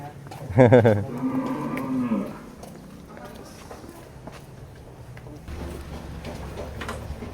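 A Madura bull for Qurban sacrifice moos loudly once up close, followed by quieter farm noises and faint footsteps.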